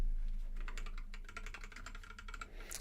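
Typing on a newly set up computer keyboard gives a rapid run of close, crisp key clicks in uneven bursts, alone with no talk.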